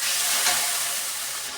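Spice paste with chilli powder sizzles and hisses steadily in a pan, a close, even frying sound.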